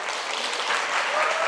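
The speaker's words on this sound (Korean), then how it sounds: "큰 박수로 환영해 주시기 바랍니다" An audience claps to welcome a company head onto the stage at an education lecture, producing a dense, steady burst of applause throughout.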